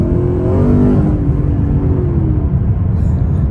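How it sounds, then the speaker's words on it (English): A vehicle engine rises in pitch as it accelerates from about 20 along an open road, a loud, close, steady drone with a faint whir. "So let's hit the gas and"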